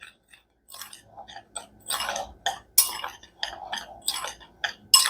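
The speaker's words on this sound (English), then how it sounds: "Just going to give that a stir to combine it." Spoon stirring salt into dry corn casserole ingredients in a bowl, producing a series of close, uneven scraping and clinking strokes with short pauses between them.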